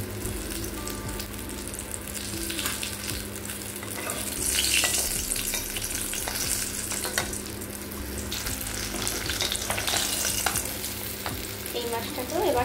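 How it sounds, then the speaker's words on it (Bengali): Fish frying in oil in a pan, a steady close sizzle running throughout with scraping and stirring sounds as the pieces are lifted out, plus some running water in the background. "আমার মাছ ভাজা হয়ে গিয়েছে। এবার একটা একটা করে মাছ তুলে নিচ্ছি।"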